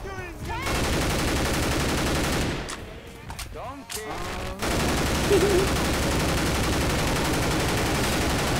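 Gunfire in the modded shooter game Left 4 Dead 2 roars as sustained loud rapid-fire bursts with a brief lull before heavy shooting resumes, dense and continuous in the mix.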